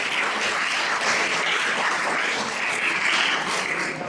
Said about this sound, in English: Can you give a huge round of applause?